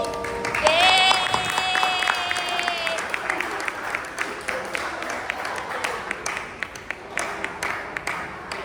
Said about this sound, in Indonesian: Sekali lagi tepuk tangan untuk Perang Gerilya Sang Panglima Besar